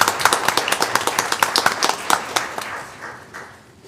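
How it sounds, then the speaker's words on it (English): A small audience at a school board meeting claps in a quick, close, crisp patter that is loud at first and then thins and fades over the final second. "a little round of applause tonight, I would be wonderful"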